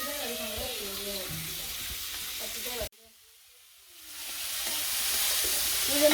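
Fish head frying in a pan in a village kitchen gives a steady, close hiss of sizzling oil; after a brief cut the crackle swells louder and fuller, with some tonal sound over the earlier part.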